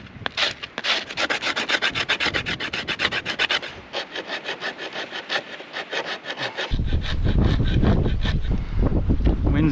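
A blade scrapes super fine wood shavings for fire tinder outdoors in wind, a close rhythmic series of quick rasping strokes, followed by gusty wind noise near the end.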